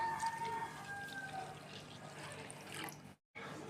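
Liquid milk pours onto semolina in a soft, faint, continuous watery stream that stops briefly near the end before resuming.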